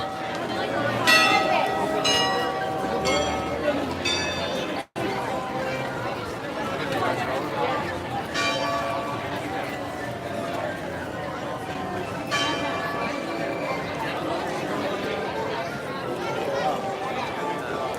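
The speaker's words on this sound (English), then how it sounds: "I didn't know those bells rang." Bells ring out in repeated bright clangs across the Magic Kingdom theme park, moderately distant, over a busy background of crowd chatter and people talking throughout.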